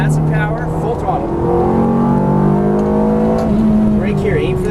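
A Ferrari F430 F1 on a racetrack accelerates at full throttle, its engine note climbing steadily and loud from close by, with a voice talking briefly over it.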